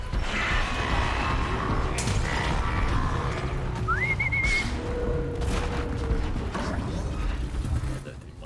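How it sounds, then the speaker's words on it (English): A character in the video game Horizon Zero Dawn gives a brief rising whistle, thin and short, amid rumbling machine noises, creaks and booms of the game world. "I don't think my whistle got heard there really."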